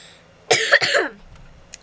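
A single close, harsh cough in a couple of quick bursts, then a short pause with a faint rustle.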